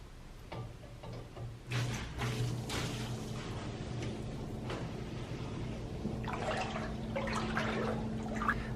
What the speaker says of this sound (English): the sump pump should automatically turn on as long as that float is upward and activated